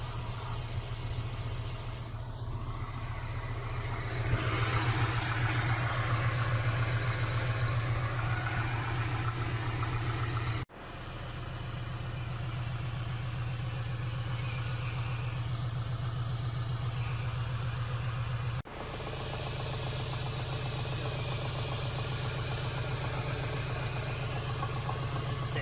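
A 1979 Pontiac Trans Am with a 6.6-litre V8 idles steadily on old wires and spark plugs, a constant low rumble with a brief rise in the early seconds and two short dropouts.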